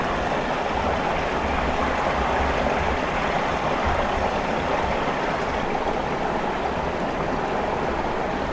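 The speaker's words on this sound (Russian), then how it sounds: "Ручей вообще не замерз." A forest stream that has not frozen over flows steadily through winter, a continuous close rushing and gurgling with no other sounds.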